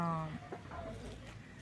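A hen clucks briefly up close, a few short throaty notes over faint background noise.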